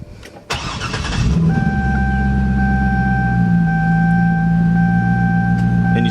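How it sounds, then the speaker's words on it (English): A Chevrolet C6 Corvette V8 cranks briefly and then fires into a loud, rumbling idle that holds steady, with a faint electronic chime tone running over the engine noise. "When you start the car,"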